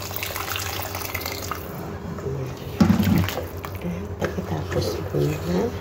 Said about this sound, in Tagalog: Lalagyan po natin ng mainit na tubig.